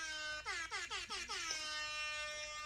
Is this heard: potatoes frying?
no